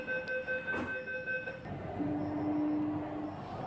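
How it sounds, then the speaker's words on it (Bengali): A Kolkata metro train pulls out of Esplanade station with a close, steady rolling rumble under a high electric whine, then a sustained tonal hum as it gathers speed. "এই যে আমাদের মেট্রো ছেড়ে দিয়েছে"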